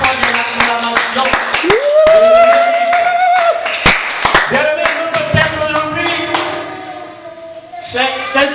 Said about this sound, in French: Donnez-lui encore plus fort des acclamations.